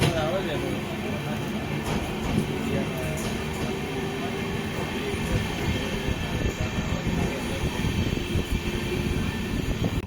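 LHB-coach Sapthagiri Express train running, a dense continuous rumble and rattle of rolling wheels heard from inside the carriage throughout, steady and loud.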